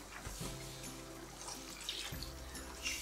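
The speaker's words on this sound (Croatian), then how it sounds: "dodat ću još otprilike 200 ml vode" About 200 ml of water poured into a pan of braising chicken with wine sauce, a soft continuous running pour with a few low gurgles, close and fairly quiet, with no talking.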